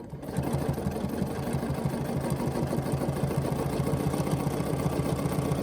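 A sewing machine runs steadily during ruler-guided quilting along a seam line, producing a fast, even, close mechanical hum and needle chatter that continues without a break.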